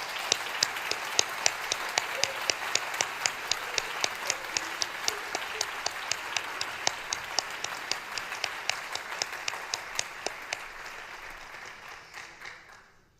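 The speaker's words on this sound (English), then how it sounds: "I just want everyone to give you a round of applause." A round of applause from the audience at a high school senior award ceremony, many hands clapping with one close, regular clap standing out above the crowd before the sound tapers off near the end.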